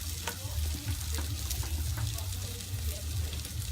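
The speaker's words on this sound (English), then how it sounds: "I'm going to put a good, healthy bit of garlic in there" Garlic sizzles in a hot pan as the base of a pork sauce, a steady loud crackle with small pops and occasional stirring scrapes, no voices.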